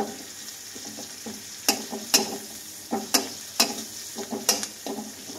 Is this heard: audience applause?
no